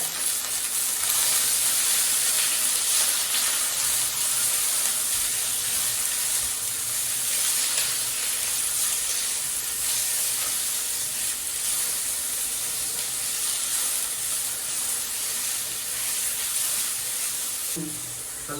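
Tomatoes frying in a pan for mutton biryani, a loud continuous hissing sizzle held steady and close throughout, with a faint clink near the end and no talking.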